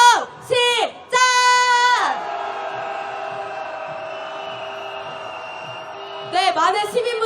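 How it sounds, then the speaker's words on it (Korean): A rally crowd at a weekly Saturday candlelight protest in a city hall plaza lets out a sustained collective shout, loud at first and then trailing off over several seconds, with a single voice calling out before and after it. "인사하는 함성 한번 질러보겠습니다"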